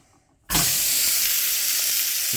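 A burger patty with bits of onion dropped into a hot pan on medium-low heat. After a moment of quiet, a loud, steady hiss bursts in and holds close and continuous.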